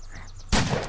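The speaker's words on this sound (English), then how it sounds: "I'm hearing gunshots" A single close, loud gunshot blast in a zombie survival video game erupts abruptly after a quiet moment and rings on with a heavy, sustained roar.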